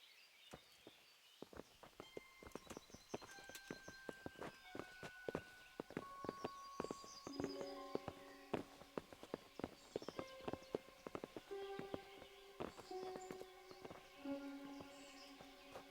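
Horses' hooves clip-clop in a medieval setting, a steady run of sharp knocks going on throughout, backed by bright sustained musical tones and chimes.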